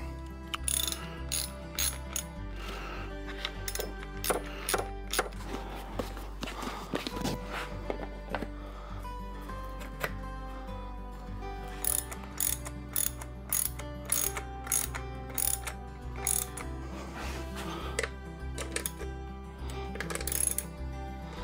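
A hand ratchet tightening a bolt on a Haro BMX bike, rapid clicking pawl bursts repeating over about twenty seconds, close and moderately loud, with occasional clinks of metal and no talk.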